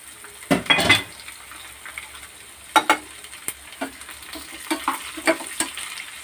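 Chopped garlic, small onion pieces and cumin seeds dropped into hot tempering oil for dal, giving bursts of crackling sizzle and spitting, with stirring clinks against the pan in irregular bursts.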